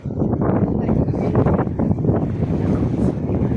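Strong wind buffeting the microphone on the baywalk of Bislig, Surigao del Sur, in a continuous low roar, with indistinct voices mixed in.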